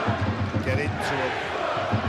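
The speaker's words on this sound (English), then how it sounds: "As the crowd here at the Jungle start to get behind their side now." Rugby league crowd at the Jungle in Castleford for a Super League match against Salford, a dense steady roar of voices with rhythmic chanting pulses, sitting under a commentator's talk.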